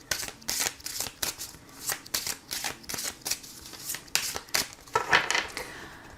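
Oracle cards are shuffled and cut in a quiet room, a quick run of crisp riffling flutters and taps in an irregular rhythm, close and fairly loud with no talking.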